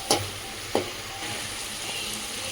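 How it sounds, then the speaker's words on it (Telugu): Tomatoes cooking in a pan crackle with a continuous soft sizzle, while a spoon stirs them, giving two distinct scraping knocks near the start and lighter movements afterward. "టమాటా కొంచెం ఉడికే వరకు ఇలా కలుపుతూ ఉండాలి మధ్యలో మధ్యలో"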